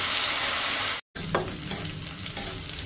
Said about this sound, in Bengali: এই তেলে দিয়ে দেব এখন পেঁয়াজ বাটা। পেঁয়াজ বাটাটা একটু ভাজা ভাজা করব।